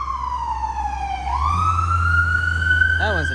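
An ambulance siren wails in a slow falling then rising sweep, loud and fairly close, over steady engine rumble.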